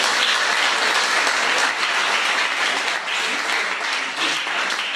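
Steady applause from an audience at a church conference fills the whole stretch, dense and sustained at an even level without a break.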